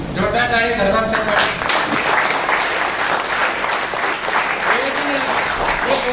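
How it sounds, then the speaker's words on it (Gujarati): Enthusiastic audience applause at an indoor business seminar, a steady wash of many hands clapping continuously and fairly close, with a voice speaking over it. "જોરદાર તાળી ધરવાન છે।"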